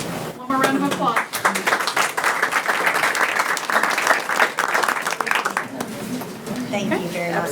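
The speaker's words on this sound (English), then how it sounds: "One more round of applause." Applause at a school board meeting, a roomful of people clapping loudly and steadily for several seconds, with voices talking briefly at the start and again as the clapping fades near the end.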